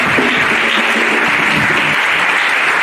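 A church congregation at a Pentecost baptism service claps loudly and continuously, a dense, close burst of applause with no talking over it.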